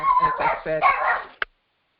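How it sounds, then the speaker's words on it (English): A dog barks indoors, short yelps mixed in with a person talking close by, ending in one sharp bark before silence. "I apologize for my dog, but the mailman's here."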